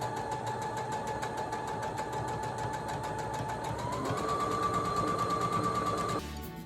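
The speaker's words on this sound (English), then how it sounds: "So there's little pieces you might have to go over really slow to make sure they sews correctly." A sewing machine stitches quilt pieces for a star quilt with a steady fast whirring hum that rises slightly in pitch midway, then stops abruptly near the end.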